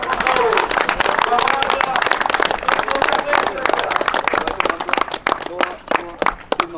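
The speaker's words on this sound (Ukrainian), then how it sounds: "Вітаємо оплесками" Audience applause at a district football championship awards ceremony, a burst of clapping from a crowd heard under continuous talk over the top.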